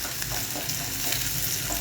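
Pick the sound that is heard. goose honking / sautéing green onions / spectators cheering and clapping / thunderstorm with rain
sautéing green onions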